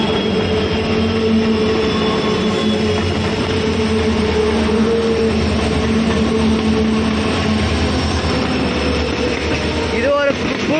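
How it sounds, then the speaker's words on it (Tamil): A cargo train rumbles past close by near Dudhsagar Falls, a steady heavy roar with rattling wagons and a faint squeal of wheels, continuous for the whole stretch. "இது ஒரு பூஸ்ட் ட்ரெயின் தான், கார்கோ."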